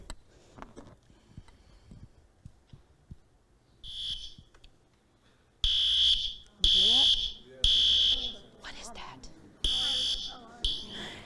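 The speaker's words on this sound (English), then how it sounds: "A fire alarm?" Fire alarm in a dormitory, loud high-pitched beeps sounding in a regular repeating pattern, preceded by quieter scattered noises and a voice, with speech in between the beeps.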